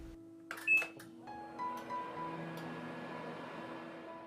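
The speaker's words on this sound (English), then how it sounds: "Put the fish in oven and bake it for 40 minutes at 180 Celsius." A kitchen oven takes a tray of mackerel to bake at 180 Celsius for a Cambodian grilled fish dish: a soft clunk near the start, then a low, steady hum that continues quietly to the end.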